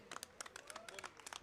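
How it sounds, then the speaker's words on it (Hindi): Scattered hand clapping from a crowd at a BJP farmers' thank-you rally in Gohana, fairly faint and uneven, with a tonal voice-like line running faintly underneath. "जोरदार तालियों से एक बार उनका स्वागत करें।"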